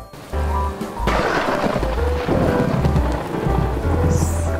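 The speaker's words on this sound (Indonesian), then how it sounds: "Wah, dalam 1 minggu ini hujan turun deras" Heavy rain pours down with a dense, loud hiss while deep thunder rumbles roll in and out, a full storm effect for a children's story, with no voices over it.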